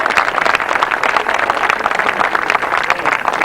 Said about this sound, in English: give this fellow a round of applause